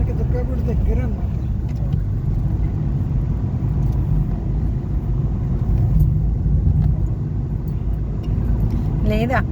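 Steady low road rumble and engine drone from inside a car travelling on the highway between Hyderabad and Vijayawada, continuous and fairly loud, with people talking over it throughout.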